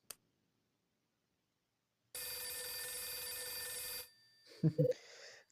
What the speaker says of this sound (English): Now the phone's ringing.